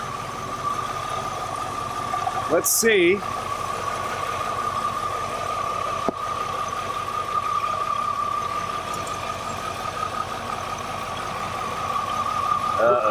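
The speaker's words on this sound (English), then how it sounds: "The idle's a little off, but it revs up smooth." Flood-damaged Cadillac Allante engine, pulled from Hurricane Ian waters, idling slightly unevenly with a steady mid-pitched drone and a faint hum over it; a sharp knock cuts in briefly, and someone speaks a few words early on.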